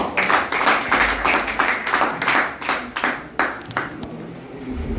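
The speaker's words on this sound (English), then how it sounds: "Please, a round of applause for" Scattered audience clapping at a formal event with a moderator, uneven and fairly faint, with individual claps standing out before fading.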